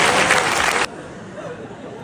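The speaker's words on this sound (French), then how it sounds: "S'il vous plaît, on applaudit le balcon." Balcony audience applauding at a stand-up comedy show in a Lausanne theatre. A loud burst of many hands clapping lasts under a second, then cuts off abruptly to near quiet.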